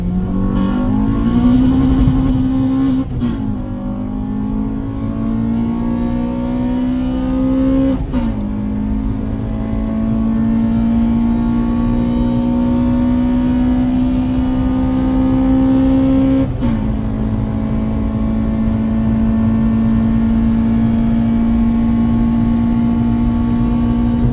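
A loud Honda Civic Type-R EP3 engine at full throttle, heard in car, the exhaust note rising steadily through gears with brief drops at each shift.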